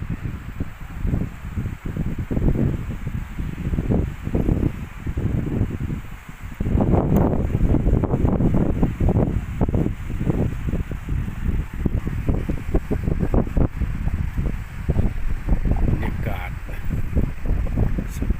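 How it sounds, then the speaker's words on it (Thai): Strong sea wind at Suan Son beach, Hua Hin, Thailand, buffets the microphone in rumbling gusts, with a person talking intermittently through it. "นี่ยินแต่เสียงลมพี่น้อง เสียงลมสุดยอดเลย"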